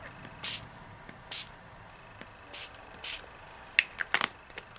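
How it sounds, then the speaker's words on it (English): A spray bottle gives several short hissing spritzes with pauses between, close up, then a few faint clicks and taps. "we'll try and see if these will spray"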